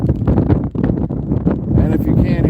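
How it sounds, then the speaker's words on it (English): Gusty wind on a rainy day buffets the microphone in rough, low rumbles, loud and close, with a voice partly heard beneath the blustering. "yes, it is windy out, it is rainy out"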